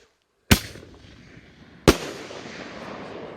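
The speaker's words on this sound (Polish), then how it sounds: "Fajny mają ten wystrzał z rury." Two sharp, loud thumps as firework mortar shells launch from a tube about a second and a half apart, each followed by a fading hiss and crackle.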